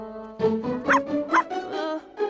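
A cartoon dog gives a quick series of about five yappy barks and yips, loud and close, with short whimpering tones between them.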